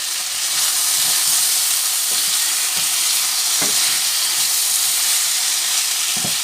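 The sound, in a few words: spices and curry frying and being stirred in a pan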